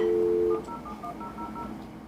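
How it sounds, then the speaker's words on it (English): Telephone-style dialing from a 1990s dial-up modem: a steady tone, then a quick run of short touch-tone beeps, moderately loud over faint background hiss. "Those iconic beeps, static sounds, and screeches were the way many people first accessed the internet in the 1990s"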